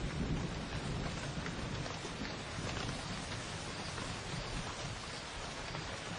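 Rain pours steadily during a winter storm in Botswana, a dense constant hiss with deep rumbling thunder underneath, loud and enveloping, without talk.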